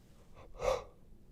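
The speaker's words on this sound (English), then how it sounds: "Apologies for the yawning." A single tired yawn, a soft breathy intake swelling to a brief voiced peak and fading, close to the microphone and faint.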